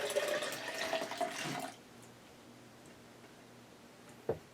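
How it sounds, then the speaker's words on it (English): Celery juice from a Dynapro vacuum juicer is poured into a measuring cup: a close, steady trickling stream that stops after a couple of seconds, then near quiet with one small knock. "we're going to go ahead and pour in the juice out of the Dynapro"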